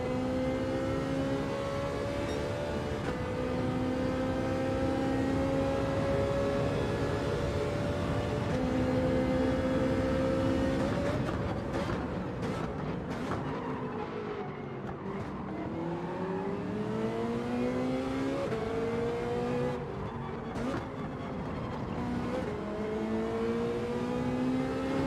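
Several race car engines in Gran Turismo 7 drone and rise in pitch together through upshifts and downshifts, a sustained close roar of GR.4 and GR.3 cars battling on track with no talk.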